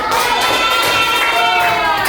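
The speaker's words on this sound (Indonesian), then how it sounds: "tepuk tangan" A group cheers and shouts together loudly and continuously during a training session, the excited voices forming a dense, sustained crowd sound.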